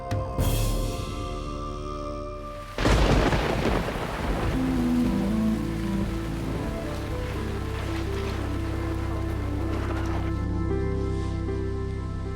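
Caribbean rainy-season storm in the Dominican jungle at a makeshift camp, a sharp thunderclap cracking in and rolling away over steady rain hiss, with a low sustained rumble underneath.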